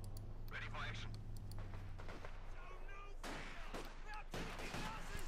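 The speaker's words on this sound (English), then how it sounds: "we got rifle grenades off here" Rifle grenades and gunfire in Company of Heroes 2 sound as a scatter of distant bursts and sharp shots, fairly faint, with a steady low hum underneath and a caster talking throughout.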